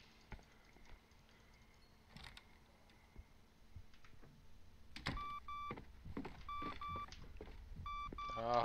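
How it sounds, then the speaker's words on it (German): An alarm system keypad in the horror video game Song of Horror gives short electronic beeps, first softer clicks and presses, then several paired beeps in quick succession, faint at first and growing louder. "Ah, Alarmanlage."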